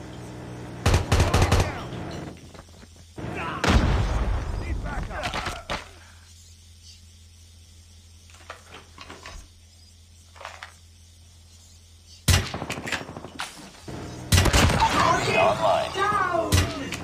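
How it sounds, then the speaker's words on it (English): A deployed sentry gun in Call of Duty Mobile on the Crossfire map fires loud automatic bursts in several clusters, with quieter gaps of game ambience and a brief in-game voice between them. "Sentry gun deployed. Target's in sight."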